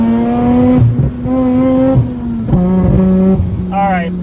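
A Mazda RX8 rotary engine revs hard toward 8,000 rpm, its exhaust producing a strong, harmonic, buzzing drone that echoes off its surroundings in repeated pulls. Someone talks throughout.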